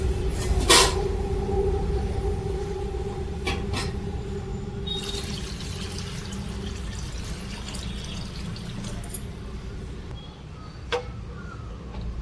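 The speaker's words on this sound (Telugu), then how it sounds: "వాటర్ వేసుకోవాలి" Water is poured into a pan of fish curry in a steady, continuous stream with a few light clinks, over low background noise.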